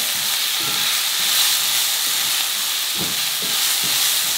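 Onions sauté in a hot pan with a loud, steady sizzle and hiss, punctuated by soft scraping and stirring taps, no voices.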